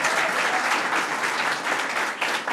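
A crowd applauds the mayor at a Kingston, New York public event, a loud, dense, sustained wave of clapping with no voices on top, easing slightly near the end.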